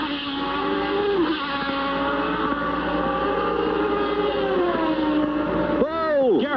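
Formula 1 race cars at the 1990 Mexican Grand Prix in Mexico City scream past with a sustained high engine whine, pitch sweeping down and back up, then a sharp nearby shift at the end.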